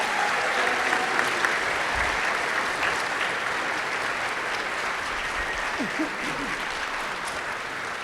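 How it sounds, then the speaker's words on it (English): At a school board meeting, an audience applauds Bronze Award students with a loud, sustained wall of clapping that holds steady and eases slightly toward the end. "if you'd like to give them a round of applause."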